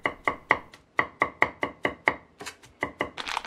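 Garlic minced with a knife on a cutting board, a run of about a dozen crisp, evenly spaced chops, close and clear with nothing else around them.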